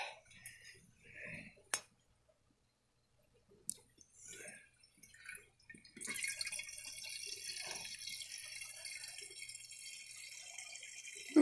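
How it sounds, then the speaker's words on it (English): Water siphoned through a hose into a jar from a fish tank, starting as a steady, close rushing hiss about halfway through after some quiet clinks and handling sounds. "we got to get a little bit of water in this jar."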